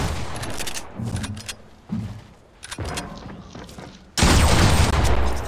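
Gunfire in the Fortnite video game, with bursts of rapid shots and thumps coming in clusters, ending in a sudden loud, dense volley.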